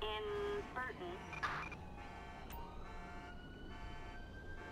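Ambulance siren in GTA 5 with the LSPDFR mod, a wailing tonal siren with sustained and shifting pitches, fairly faint, accompanied by scattered clicks and other game sounds.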